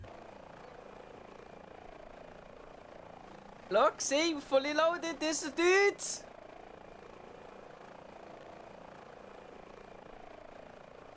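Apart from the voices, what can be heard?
helicopter in Microsoft Flight Simulator 2020 video game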